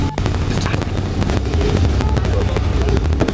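Gusty wind buffets the microphone in an open Caterham Seven 360R, a loud rumbling roar with irregular thumps throughout.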